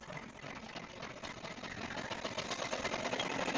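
An embroidery machine tacks down leaf fabric with a rapid, steady needle chatter that runs close and continuous, growing slightly louder toward the end, with no voices.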